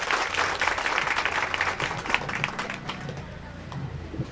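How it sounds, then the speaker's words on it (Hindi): An audience at the opening of a public outreach office in Govind Nagar, Mira Road, breaks into steady, fairly close applause that carries on throughout, with crowd voices under it. "इसके लिए जोरदार तालियां नरगिस आपा के लिए"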